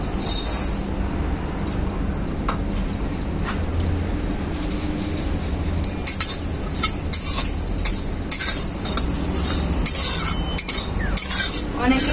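Mung dal being dry-roasted in a kadai, a continuous gritty rustle of lentils scraped and stirred against the metal with frequent light clinks and scrapes, fairly loud and steady throughout.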